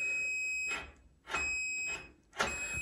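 A door warning chime in a VW Beetle sounds as a steady electronic tone broken by repeated bursts of beeping, close and fairly loud, repeating about three times with no talking.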